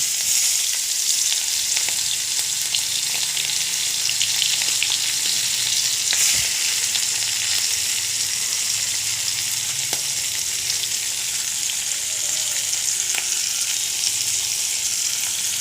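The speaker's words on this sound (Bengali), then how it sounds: "তেল দিয়ে চিংড়িগুলো কড়াতে ভেজে নেব" Steady, continuous sizzling and crackling of shrimp frying in hot oil in a wok, close and even throughout, with a few faint clinks of stirring.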